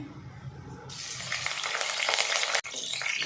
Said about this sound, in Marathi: तेल गरम झालं आता कढीपत्ता टाकून घेते